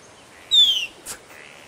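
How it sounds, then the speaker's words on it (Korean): A single bird in the Ecuadorian Amazon jungle gives a short, bright descending call in answer to a person's whistle, followed moments later by a softer, brief chirp against a quiet outdoor background. "이렇게 새가 화답합니다."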